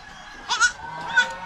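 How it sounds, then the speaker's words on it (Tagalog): Goats on a farm bleating twice in short, thin, wavering calls, fairly close and isolated against quiet surroundings. "Ang cute po sa ating mga kambing."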